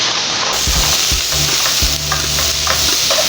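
Vegetables sauté in a frying pan as the base of a sauce for red snapper, a steady loud sizzle with stirring and scraping thumps of a utensil against the pan, close up, no talking.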